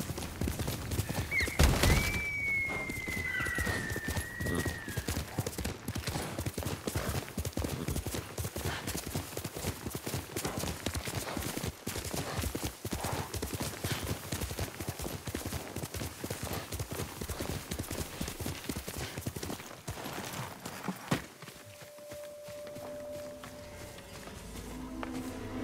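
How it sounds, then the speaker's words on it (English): Steady clip-clop of horse hooves at a brisk gallop in the video game Ghost of Tsushima runs throughout, loud and continuous, with a brief whinny early on and ambient sounds behind. "You're a good horse, Noble."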